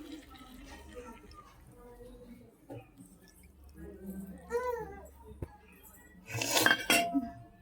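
A mustard grinding bowl is rinsed with water, giving soft clinks and splashes with a louder burst of washing near the end, while voices, including a child's, talk throughout.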